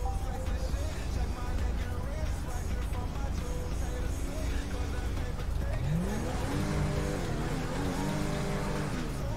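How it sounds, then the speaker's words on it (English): Police car engine in the FiveM video game revving repeatedly, the pitch climbing and falling in steady surges at close range, with someone talking over the engine noise. "Bit of revving there for you."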